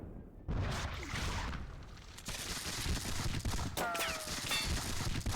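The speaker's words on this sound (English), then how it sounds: "Let us just exchange gunfire." Musket volley gunfire in a Seven Years War wargame at the Battle of Zorndorf, a dense, sustained crackle of overlapping shots that builds after a short pause and rolls on continuously with booming and whooshing bursts.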